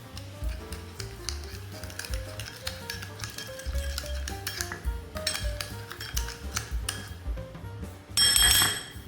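Oyster sauce, sugar and light soy sauce being mixed as a stir-fry noodle seasoning, with light clinks of a utensil against a bowl, plus a rhythmic musical backing and a brighter jingle near the end.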